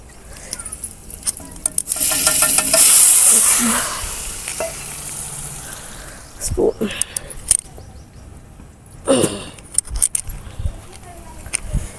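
Mustard seeds and chillies spluttering in hot oil for a chutney tempering, a busy crackling sizzle that swells loudest early and then settles, with stirring clinks and a voice talking over it.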